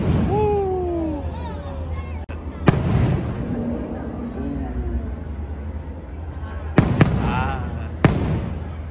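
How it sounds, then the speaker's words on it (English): A Disneyland fireworks show bursts overhead with several sharp, loud booms and pops spaced apart, while people chatter and a low rumble of crowd noise continues throughout. "Man, that was a crazy fireworks show."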